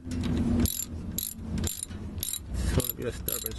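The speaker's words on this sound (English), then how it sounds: "Just keep using the socket." A socket ratchet works a long starter bolt on a 1998 Ford Explorer, giving bursts of quick, close metallic clicking repeated several times over a low mechanical background.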